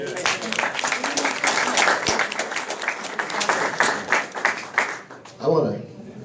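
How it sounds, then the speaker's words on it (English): An audience at a legislative session wrap-up event breaks into sustained applause, dense and loud for several seconds before tapering off as a voice begins speaking. "Give them applause."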